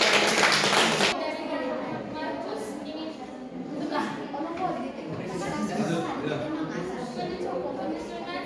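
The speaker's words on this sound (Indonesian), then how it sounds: "Baik, tepuk tangan untuk kelompok Matius." A classroom bursts into loud applause for a student group for about a second, then the clapping stops and a teacher speaks over quieter room chatter.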